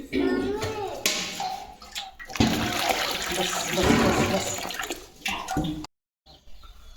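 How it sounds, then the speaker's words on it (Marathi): Fresh water poured over soaking wheat grains in a bowl, a steady loud splashing rush with a brief break near the end, while someone talks. "आणि आता याच्यामध्ये मी परत नवीन दुसरं ताजं पाणी टाकते."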